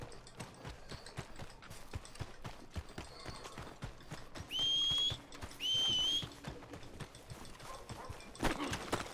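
Horse hooves from Red Dead Redemption II clip-clop in a steady trotting rhythm, with two sustained whistling tones partway through and a louder rustle near the end.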